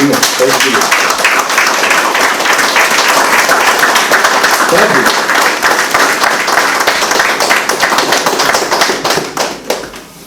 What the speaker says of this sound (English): All of you should clap for somebody.